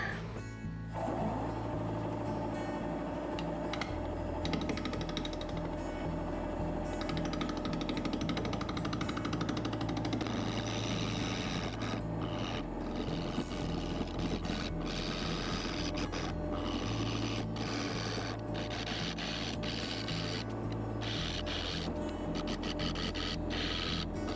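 A wood lathe spins a maple burl held with tailstock support, giving a steady, close mechanical drone with a rhythmic chattering rasp as the tool cuts the uneven wood.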